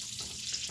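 A ribeye steak sizzles in butter and olive oil in a cast iron pan, a close, steady hiss of frying fat with a small pop right at the end.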